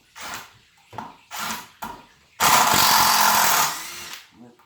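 A DeWalt Xtreme cordless drill whirs in three short bursts, then drives a screw in one longer sustained run that slows and stops.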